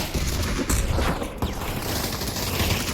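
Gunfire in the VR shooter Pavlov, with AKs and M4s in a competitive match: dense bursts of rapid automatic shots crackle continuously, loud and close, with no pauses.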